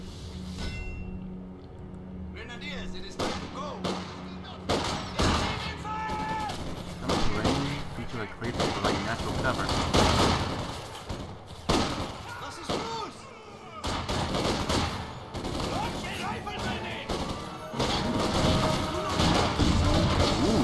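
Artillery and gunfire in a Company of Heroes 2 battle, heavy thuds and crashing impacts recurring through dense combat noise, with someone talking throughout.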